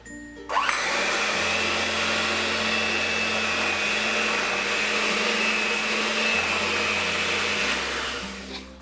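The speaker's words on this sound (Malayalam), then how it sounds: "ഇതിലേക്ക് 4 ടേബിൾ സ്പൂൺ നല്ല തണുത്ത പാലൊഴിച്ചിട്ട് ഇതൊന്ന് വിപ്പ് ചെയ്തെടുക്കാം." An electric beater whips cream powder with cold milk for papaya ice cream, a close, loud motor whine that starts abruptly and runs steadily, its pitch shifting slightly as the speed changes.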